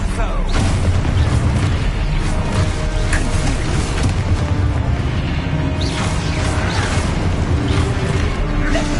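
Expulso spell explosions in Hogwarts Legacy on PS5, a dense run of loud booming blasts and crashing bursts packed one after another across the whole stretch, with a low rumbling floor beneath them.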